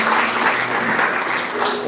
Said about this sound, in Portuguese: palmas para o nosso Senhor